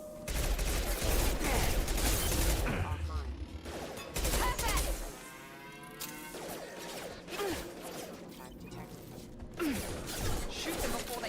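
Gunfire crackles through a Mass Effect 2 firefight in short bursts, mixed with mechanical clanks and whirring, loud at first and then thinner over a sparser stretch, with voices talking over it at times.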